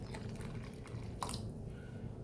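Water is added to a simmering paneer butter masala gravy, giving faint dripping and trickling into the pan with one brief louder splash midway.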